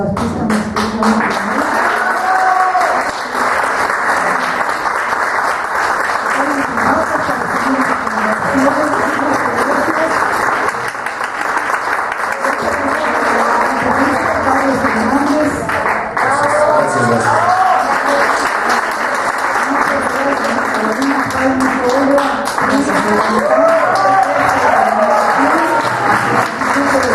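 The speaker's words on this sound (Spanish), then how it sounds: "Como en el teatro, vamos a pedir un aplauso para nuestra artista mexicana." Sustained audience applause for a Mexican woman artist at a talk in a theatre-like setting, loud and steady throughout with dense clapping and some crowd voices mixed in.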